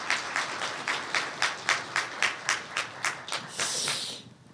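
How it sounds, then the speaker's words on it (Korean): A church congregation claps in unison for the choir at a New Year's Eve service, about a dozen even rhythmic claps at a steady pace that break into brief scattered applause before fading. "우리 찬양대 박수 한번 쳐줍시다."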